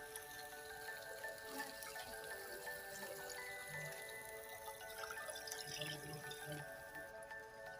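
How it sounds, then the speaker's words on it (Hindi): Four cups of water are poured into a pot of browned chicken for pulao, giving a soft, steady splashing and trickling with drips, faint and close under a constant background hum. "इसमें हम डाल देंगे 4 कप पानी"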